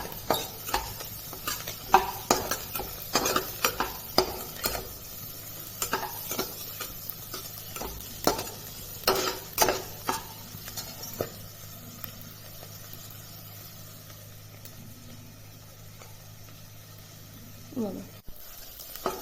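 Leftover rice with salt and a little sugar being stirred and fried in a pan, a close sizzle with repeated spatula scrapes and clicks that thin out toward the end.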